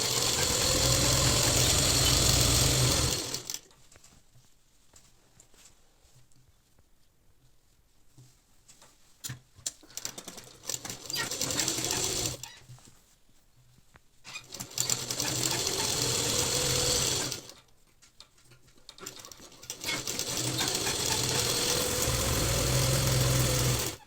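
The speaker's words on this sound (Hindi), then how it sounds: "अब हमने नीचे मोरी की सिलाई नीचे से ये आधा आधा इंच की फिनिशिंग की सिलाई लगा दी है" A sewing machine stitches the half-inch folded hem of a kurta sleeve cuff, running in loud sustained bursts of whirring with quiet pauses between them.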